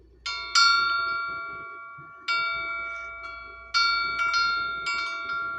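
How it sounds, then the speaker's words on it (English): A wind chime in a Japanese garden rings out in clear, bright metallic tones, several separate strikes each decaying slowly, close and fairly loud with no talk. "That wind chime is perfect."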